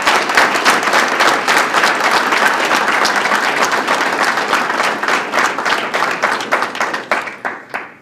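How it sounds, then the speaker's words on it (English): An audience breaks into sustained, close applause for police officers at a P.E.A.C.E. unit celebration, dense clapping that holds steady and then thins into scattered claps as it fades. "Can we please give them a round of applause?"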